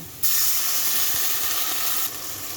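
Loud steady sizzle and hiss of water poured into a hot pan of frying pulao rice and cinnamon spices, bursting in abruptly and easing slightly near the end.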